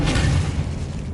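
An Expelliarmus disarming spell in a Harry Potter video game, a short, loud burst with a deep boom and a crackling rush, lasting about a second.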